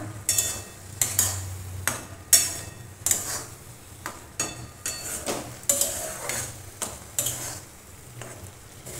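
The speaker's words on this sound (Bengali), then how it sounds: "সুজিটা আমি ভালো করে মেখে নেব।" Semolina being stirred and worked in a pan of hot water on the stove, with repeated scraping and clinking strokes against the pan in an irregular rhythm, close and fairly loud with no voices.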